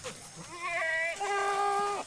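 A goat bleats twice in quick succession, loud and close, with a wavering, nasal cry and no other sounds.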